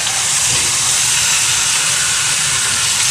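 Pork butt browns in a pot, giving a loud, constant sizzling hiss of hot fat and meat juices close up, with no voices.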